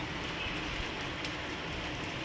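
Steady hiss of rain falling, an even wash of noise with no speech.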